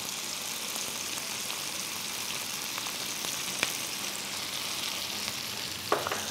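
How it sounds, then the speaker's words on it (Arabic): Onions sizzling in oil and butter left from frying fillets, with a soft steady crackle and a couple of sharp spoon scrapes as they are stirred in the pan. "الزيت اللي حمرنا فيه الفيليه راح نحط شوية بصل ونقلبه"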